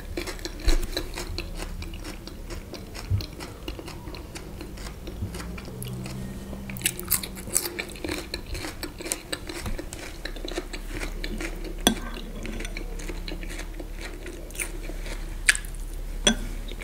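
Chewing and biting on young boiled potato during a mukbang meal, close wet mastication with occasional crunches and soft clicks of cutlery, steady throughout with no talk.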